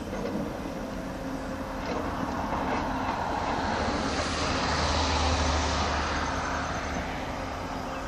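A helicopter hovers near Port Est on Réunion during a heliportage from the ship Marion Dufresne, producing a steady, distant rotor-and-turbine drone with a broad wash of noise that holds for about eight seconds with no talk.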